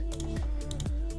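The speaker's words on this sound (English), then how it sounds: "Sorry, I was typing something up." Keys clatter on a computer keyboard in a quick, uneven burst of close, distinct clicks, with no voice over them.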